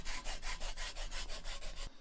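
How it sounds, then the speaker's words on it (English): Sandpaper rubs back and forth along the edge of a leather briefcase handle filler, about eight rhythmic, close, loud rasping strokes that stop abruptly just before the end. "And then taking a piece of sandpaper"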